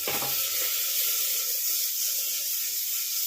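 Onion pieces hit hot oil in a pan for chicken stew and burst into a loud, steady hissing sizzle that holds evenly throughout, with no talking.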